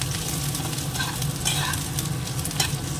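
Potatoes fry in oil in a home kitchen pan, a close, steady sizzle with small stirring scrapes, brief and unaccompanied by speech.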